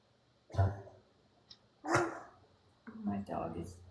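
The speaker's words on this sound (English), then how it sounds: "My dog is gagging." A dog gags in three separate bursts of rough retching and hacking about a second apart, close and fairly quiet, with a faint short sound between the first two.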